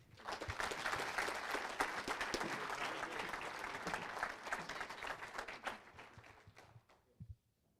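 An audience applauds at a Frisco ISD athletics hall of honor ceremony, a full, dense burst of clapping that holds steady for several seconds, then thins out and fades to a few last claps.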